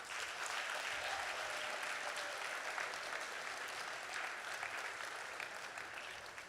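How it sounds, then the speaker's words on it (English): A gala audience breaks into sustained applause, a dense, even wash of many hands clapping that holds steady and fades only slightly toward the end. "Let's give him another round of applause."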